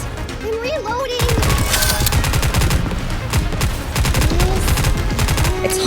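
Rapid automatic gunfire from the mobile shooter game Goddess of Victory: Nikke rattles continuously and loudly after a brief opening, dense bursts layered over game music and effects.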